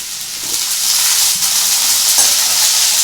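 Diced carrots and red and yellow bell peppers fry in hot oil for mixed fried rice, giving a loud, steady sizzle with faint stirring scrapes and no talking.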